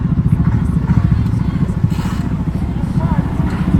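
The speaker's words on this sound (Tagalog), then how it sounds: "Ipaparada niya yung bike para ano." A motorcycle engine idles and putters steadily close by as the bike is being parked, with low rumbling throughout and people talking over it.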